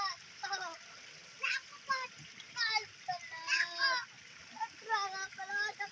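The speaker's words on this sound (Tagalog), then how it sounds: "Ang magbasa-basa sa tubig." Children shout and chatter excitedly while splashing in a canal, over intermittent splashing and trickling water, with bursts of high voices throughout.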